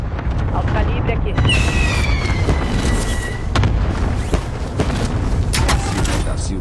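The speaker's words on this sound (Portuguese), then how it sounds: "Ataque de dispersão aliado chegando." Allied cluster strike in Call of Duty: Warzone, a dense barrage of loud booming blasts that rumbles continuously, with a streaking whistle layered over the top and voices talking underneath.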